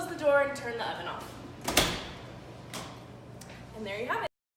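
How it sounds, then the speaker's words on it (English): A combi oven door swings shut with one sharp, close thud, with a fainter knock shortly after and a person talking before and after. "Close the door and turn the oven off."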